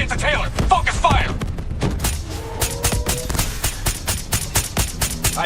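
Rapid bursts of automatic gunfire and heavy impacts crackle through a firefight in Call of Duty: Black Ops 3, dense and close, with a voice briefly heard amid the shots.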